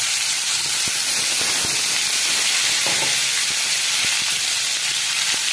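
Cut cauliflower pieces drop into hot oil in a pan and set off a loud, continuous broad sizzle, close up, with faint scattered clicks beneath the hiss and no talk.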